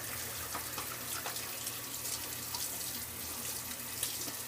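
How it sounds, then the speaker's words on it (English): Running water from a tap pours steadily while hair is rinsed out by hand, a continuous close splashing hiss with small irregular splatters and no talking. "Wash it out with my hands."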